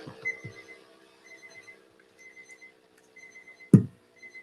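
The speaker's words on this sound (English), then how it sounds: "Oh dear, where's the alarm going off?" Alarm going off somewhere in a room, a faint repeating electronic beep pattern in short bursts, distant and quiet, with one louder thump partway through.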